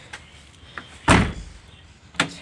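A Toyota Corolla car door slams shut once with a solid broadband thud, close by, framed by a few faint clicks of the handle and latch before and after.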